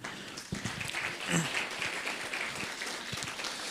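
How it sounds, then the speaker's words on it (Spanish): Congregation applause during a Sunday church service, a steady wash of many hands clapping at moderate volume, with a voice briefly rising over it. "vamos a dar fuertes aplausos"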